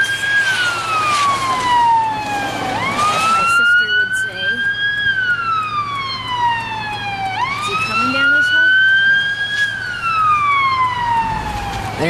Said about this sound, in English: It's a ambulance.